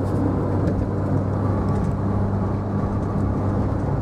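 A 1989 Austin Metro 1.0 City X three-door pulling away from a roundabout, a steady low engine drone with road rumble and wind noise heard from inside the cabin, without any talking.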